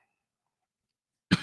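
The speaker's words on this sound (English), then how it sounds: "That's a cough from my drink going down the wrong pipe." A single short cough, from a drink going down the wrong way, bursts out at the very end after near silence, close and fairly loud.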